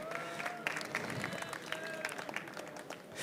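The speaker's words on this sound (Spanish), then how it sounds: "Un aplauso, por favor." A classroom of students applauds a student group after its recycled-materials construction project is presented. The clapping is moderately quiet and scattered, with some voices chattering underneath.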